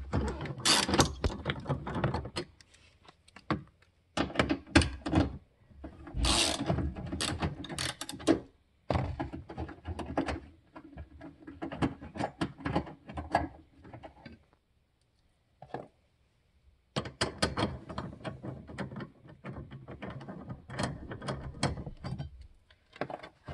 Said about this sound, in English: There's going to be a 10 millimeter bolt right here. Looks just like that. So I'm going to undo the bolt.